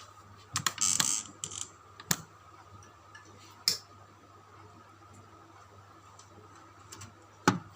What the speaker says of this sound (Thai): ถอดน็อตตัวนี้ด้วยนะครับสองตัว